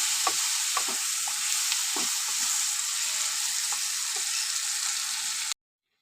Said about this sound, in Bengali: এখানে হলুদ গুঁড়ো নিয়ে নিচ্ছি ভালো করে আমি কষিয়ে নেবো